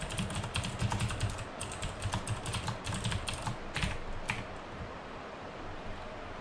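Rapid, steady typing of code on a computer keyboard, a dense run of close clicks over a constant background hiss, with no voices.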